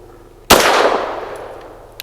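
A single loud shot from a Rock Island Derya Arms Melik firing a lead-free Winchester Super Clean 90-grain round cracks sharply close by, its blast trailing off in a long reverberant decay.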